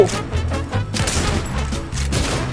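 Rapid gunfire from the video game Fortnite, dense bursts of shots layered over low game music, loud and continuous throughout.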